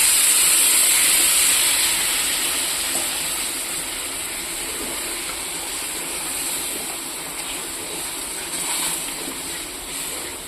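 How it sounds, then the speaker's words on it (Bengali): Water poured into a pan of frying fish curry sets off a loud, broad steam hiss that starts strong and gradually settles into a steady sizzle, with no talking. "দেখুন বন্ধুরা, মাছটা ভাজা হয়ে গেছে মশলার সাথে। আমি একটু জল দিয়ে দেবো।"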